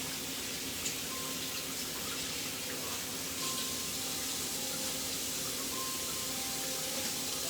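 Tap water runs steadily into a kitchen sink while food is rinsed, a constant close hissing splash with no pauses and no talk.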